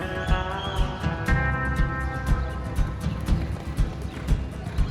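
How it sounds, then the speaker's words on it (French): Horse hooves at a lasso rodeo in Mexico, a steady run of clip-clopping beats on the ground at a quick, regular rhythm, mixed with crowd noise and background talk. "Ils sont contre le cheval et ils essayent avec le lasso de choper ses pattes arrière."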